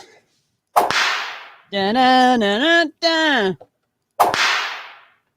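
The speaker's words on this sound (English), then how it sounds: "That was the whip." Two sharp whip cracks from a sound effect ring out, each with a hissing tail. A strained voice sounds between them.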